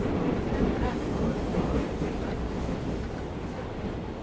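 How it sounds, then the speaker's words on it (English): A subway train rumbles steadily in the video game SOMA, a continuous broad roar with a faint voice somewhere beneath it. "Nothing like traveling in a subway in the family."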